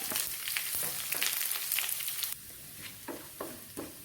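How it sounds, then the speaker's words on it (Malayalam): Curry leaves, onion pieces and dried red chillies hit hot oil over popped mustard seeds for nellikka rasam tempering, a loud bright crackling sizzle that drops to a softer, intermittent frying hiss. "കുറച്ച് കറിവേപ്പില, 2 കഷ്ണം ഉള്ളി, 2 വറ്റൽമുളക് നമുക്കിട്ട് കൊടുക്കാം"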